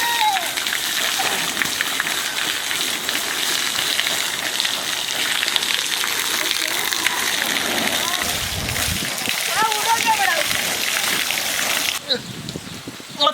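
Water sprays steadily from a homemade shower in a hot setting, a continuous close hiss and patter of falling drops, with a voice speaking briefly partway through.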